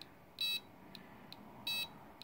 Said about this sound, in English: it's beeping faster than it would with nothing there